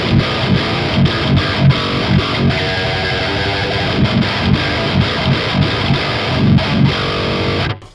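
A Chapman ML-1 Pro modern baritone electric guitar with a 28-inch scale, played through heavy distortion in chugging, palm-muted riffs with steady rhythmic accents, loud and dense, cutting off abruptly at the end.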